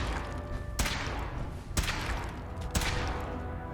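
Three heavy weapon shots fired during a power armor suit test in Fallout 4, spaced about a second apart, each a sharp thud over a loud droning background.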